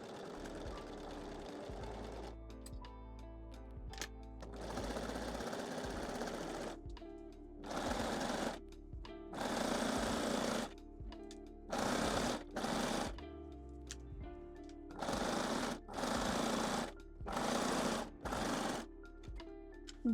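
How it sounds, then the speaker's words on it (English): A cover stitch machine hems the leg openings of a lingerie bodysuit, running close and loud in a long opening stretch, then in a string of short, evenly spaced bursts with quiet gaps between them. "I'm using my cover stitch machine today."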